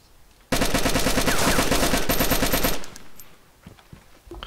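A burst of rapid automatic gunfire from the video game DayZ runs loud and continuous for about two seconds, then cuts off, leaving faint scattered noises.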